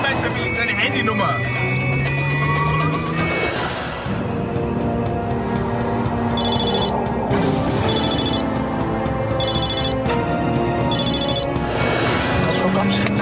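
A telephone rings repeatedly in a tense German police drama scene, bright trilling bursts coming in a regular pattern over music and background noise, with agitated talking between rings.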